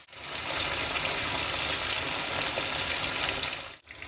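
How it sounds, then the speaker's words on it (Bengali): Pomfret fish pieces fry lightly in oil with a soft, steady sizzle and bubbling at moderate distance. The sizzle fades in at the start and cuts off briefly near the end. "আমি মাছগুলো হালকা করে ভেজে নেবো"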